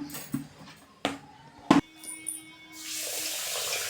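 Water runs from a tap into a pot of rice set to soak for curd rice, a steady splashing rush that builds toward the end after a few sharp knocks and clinks of the vessel.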